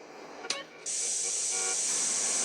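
A spray can hisses steadily as a wall is tagged in the video game GTA San Andreas, after a brief click and rattle. The hiss is continuous and close until the end.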